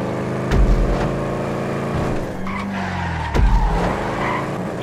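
Car spinning out in a downhill race in the video game GTA Online, loud tire screeches and skidding over a racing engine, with two sharp impact thumps.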